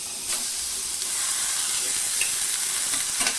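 Boiled cluster beans tipped into a pan of sizzling mustard seed tempering with turmeric give a steady close frying hiss, with a few brief stirring scrapes, and no talking.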